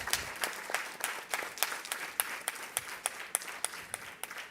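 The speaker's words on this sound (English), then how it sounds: "I think we should give him a round of applause." Audience applause for a guest at a Gurupurnima gathering, steady mid-distance clapping from a modest crowd with crisp individual claps standing out, no talk over it.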